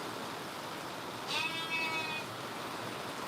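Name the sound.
sheep bleating in a lambing shed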